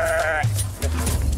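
A sheep bleating on a farm where sheep are milked for traditional cheese: two loud, close, wavering bleats in quick succession, heard alone.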